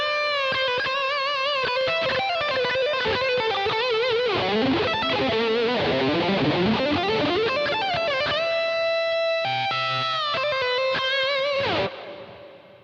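Heavily distorted electric guitar plays a fast, busy run of notes and bends, ending on a sustained chord that cuts off abruptly.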